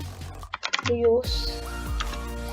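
Quick keystrokes on a computer keyboard enter a Minecraft command, a short cluster of close, crisp clicks followed by someone speaking over them.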